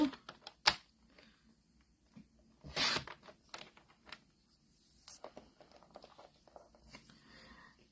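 Scissors cut paper for a flag banner, scattered crisp snips and rustles up close, with one longer burst of crinkling in the middle and quiet gaps between.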